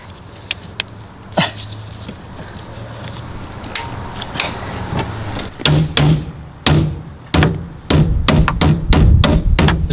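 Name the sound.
hammering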